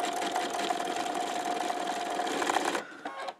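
Sewing machine stitching coiled rope into an embroidered rope bowl, a steady fast continuous whir with a faint high whine, running close and loud for nearly three seconds before stopping with a few brief clicks.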